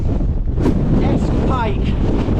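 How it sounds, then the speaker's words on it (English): Gale-force wind on a fell in the Lake District's Langdales roars and buffets the microphone in a dense, loud, continuous rumble, with a voice faintly audible under it. "so windy"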